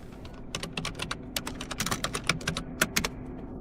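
Quick, uneven bursts of clicking keystrokes on a computer keyboard as a command is typed, close and fairly quiet, with short pauses between runs of keys.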